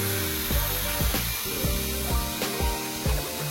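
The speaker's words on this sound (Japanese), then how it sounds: "国産のマキタの風力が一番強いエアダスターで天井の水を飛ばしてみるとこんな感じ" A Makita cordless air duster blasts water off a ceiling, producing a harsh airy hiss that pulses in regular bursts over a steady rumbling background.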